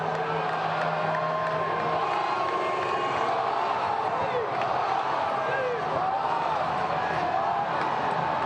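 A huge outdoor crowd at the Seahawks Super Bowl victory parade in Seattle, a dense continuous roar of cheering and whoops with scattered distant shouts, steady and loud throughout.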